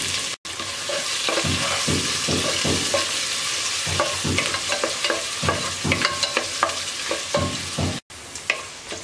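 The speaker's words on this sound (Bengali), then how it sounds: "পেঁয়াজটাকে হালকা ভেজে নেব।" Chopped onions fry in a pan with bay leaf and whole spices for a chickpea biryani, a constant close sizzle broken by repeated scraping stirs of the spoon, with no talk.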